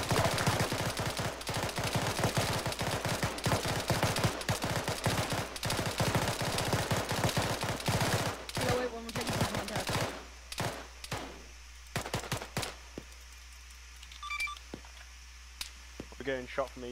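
Gunfire in the military game Arma crackles in rapid, dense bursts for about ten seconds, then thins to scattered single shots, with a voice talking over it now and then.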